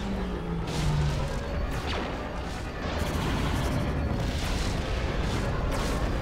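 Heavy rumbling blasts and crashing debris as a bridge is destroyed in Star Wars Galactic Conquest, a continuous loud battlefield roar with several booming hits layered over one another.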